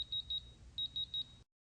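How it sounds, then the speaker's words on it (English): A Digilock electronic lock gives its low-battery warning: two sets of three short, high electronic beeps, evenly spaced with a brief pause between the sets, faint and clean over a quiet room. "the lock emits two sets of 3 beeps"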